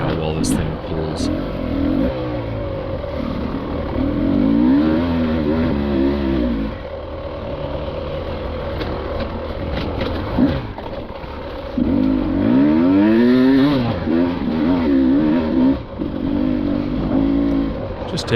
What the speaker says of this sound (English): Hopefully you can hear how the engine lugs and bones.